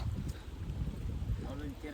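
Wind gusts outdoors on a foggy day near a lake, a steady rough rumble buffeting the microphone with no break, and a voice is briefly heard talking under it.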